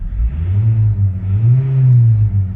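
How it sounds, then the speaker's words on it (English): The 2-liter diesel engine of a 2009 Mitsubishi Lancer idles with a low, steady rumble, rising slightly as if revved gently, then settling. It's loud and close, with no talking. "And the sounds of a car, it's a 2-liter diesel."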